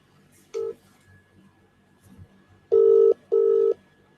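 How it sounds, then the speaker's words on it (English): Telephone keypad tones sound as a call is dialed: one short beep, then two longer, loud tones in a row after a pause, with faint background noise in between. "Let's see if I can get that Rudy fucker on the phone."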